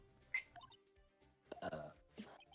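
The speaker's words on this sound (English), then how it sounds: "Sorry, I burped." A short, quiet burp stands out briefly amid near silence, followed by faint murmuring sounds.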